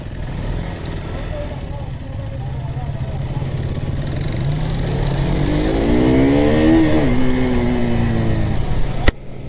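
A superbike ridden at night, with a steady engine drone and wind rush that slowly build as it accelerates, while a rider's voice comes through intermittently.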